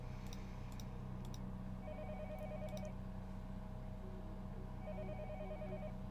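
In the Higurashi video game, a telephone ringback tone repeats in two bursts of warbling trilled rings over a quiet humming background, faint and unaccompanied by talk.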